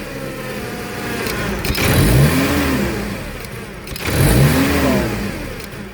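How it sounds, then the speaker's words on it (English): A Toyota 7FGU32 forklift engine with a fault revs erratically at idle. It surges up twice on its own, rising and falling in uneven swells over a steady mid-pitched engine drone. The engine sounds close and loud, and no one talks. "the engine is just randomly revving up"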